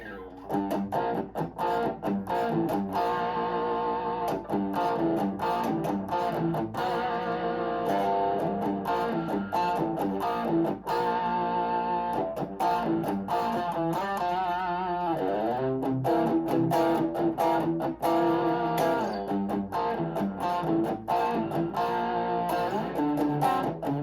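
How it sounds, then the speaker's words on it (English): A heavily distorted, overdriven electric guitar plays a chugging riff with chords and bent notes, loud and continuous with no voices. "I'm gonna play it with some distortion, some overdrive here"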